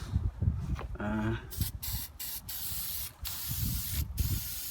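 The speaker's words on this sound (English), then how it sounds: "Before I close this, actually I'm gonna spray some corrosion inhibitor." Short bursts of aerosol corrosion inhibitor spray hiss onto a Toyota Corolla's front disc brake, several quick puffs with brief gaps, close by, mixed with handling noise and a voice talking intermittently.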